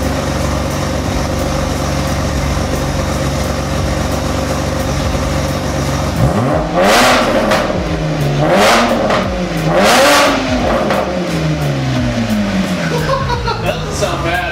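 BMW fitted with a 90-degree downturn exhaust idles with a deep steady burble, then gets revved in three loud rising-and-falling blips, with a voice talking over the engine.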